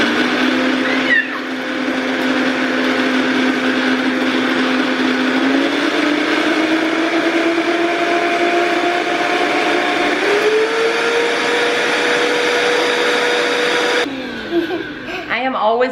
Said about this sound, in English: I am always so impressed with our Vitamix.